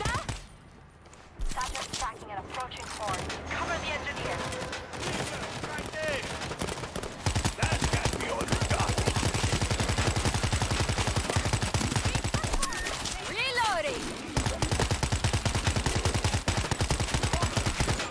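Rapid bursts of gunfire from the zombie shooter World War Z, with dense continuous volleys and automatic fire rattling loudly over game music and voices, growing heavier partway through.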